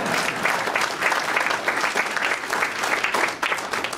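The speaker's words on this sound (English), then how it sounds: "yes, you can applaud. You can applaud." Audience applause during a political speech, a dense, steady burst of many people clapping from start to finish at moderate loudness, with no voices on top.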